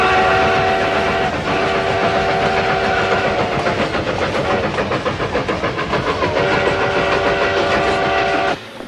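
A train rumbling steadily along the tracks with loud, continuous clatter and a sustained whistle-like tonal blast that drops out and returns, heard up close and unbroken for several seconds.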